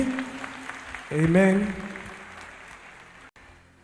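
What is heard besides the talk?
church congregation applauding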